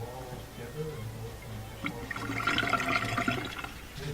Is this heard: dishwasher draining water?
yes